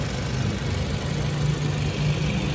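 A 2016 Toyota Altis 1.8G car engine idles with a steady low hum and a smooth, even mechanical drone, close and alone with no talking.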